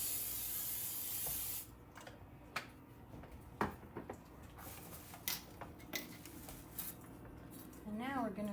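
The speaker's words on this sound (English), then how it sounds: "Let me go ahead and add a little bit of cooking spray." Cooking spray bursts into an empty soup pot in a home kitchen: one close, loud hiss lasting under two seconds, followed by light clicks and utensil taps.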